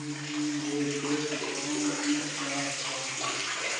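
Water streams steadily from a side borewell hole drilled into the wall of a well, a continuous splashing flow heard up close with no talk over it.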